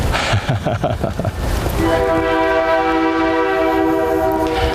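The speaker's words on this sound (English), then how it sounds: "Now that sounds like a train." A train rumbles and clatters past loudly, then its horn blares a sustained chord that holds to the end, close and dominant; heard from the Queen City Trail in Crawford County.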